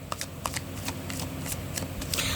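A deck of tarot cards being shuffled up close, a quick run of crisp papery riffles and soft flutters that continues steadily without talk.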